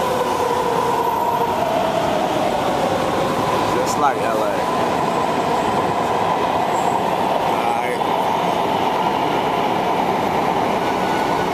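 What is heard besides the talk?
Atlanta subway train riding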